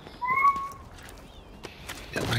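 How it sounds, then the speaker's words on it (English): A house cat gives a single clear, close meow with a rising-falling tone, followed by a fainter second call and some rustling in a quiet room. "my cat is bugging right now"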